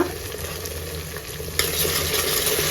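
Onion, tomato and ginger garlic paste fry together in one pot for egg biryani, a close, continuous crackling sizzle that jumps louder as the mixture is stirred, with no talking.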